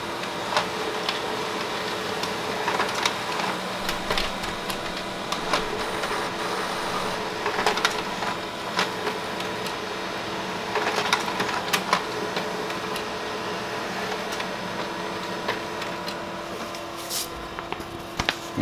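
An HP Color LaserJet Pro M277dw printer making a copy, a close, continuous mechanical whir with rhythmic clicks and clunks of paper feeding and rollers that continue through the whole run.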